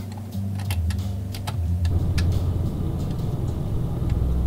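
A truck engine in Euro Truck Simulator 2, a quiet low hum that steps up into a denser rumble partway through, with faint clicks in the cab.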